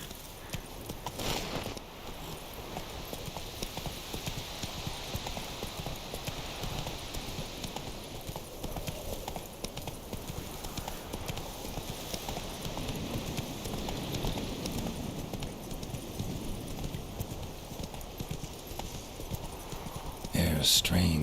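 A horse gallops in The Witcher 3 video game with steady rapid clip-clop hoofbeats throughout, close and continuous, while a voice speaks over the hooves.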